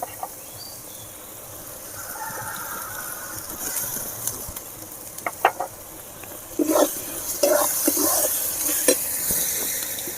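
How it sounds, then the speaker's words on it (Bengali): Ginger paste, chopped tomato and coriander powder fry together in a pan, with a low sizzle and clicking, scraping stirs that grow busier in the second half, and no talking. "টমেটো কুচি, ধনে গুঁড়ো, ভালো করে ভেজে নিতে হবে।"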